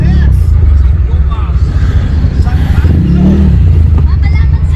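A tricycle runs among busy street traffic, with a steady loud engine drone and passing motor vehicles close by, while voices murmur and talk over the roar.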